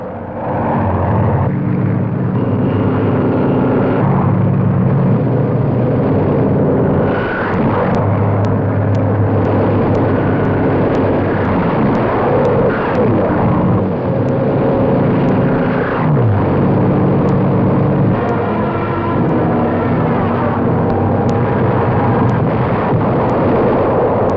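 WWII Allied warplanes over the Normandy invasion drone loudly and continuously, a dense engine roar with rumbling blasts mixed in, filling the whole stretch without speech.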